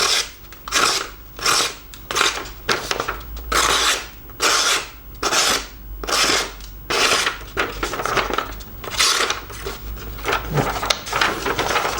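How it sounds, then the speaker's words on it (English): A Byrd Cara Cara 2 knife makes repeated fine slicing cuts, a steady series of crisp, rasping strokes close up, about a dozen in a regular rhythm with brief pauses between. "Completely without effort, you can do super fine slices."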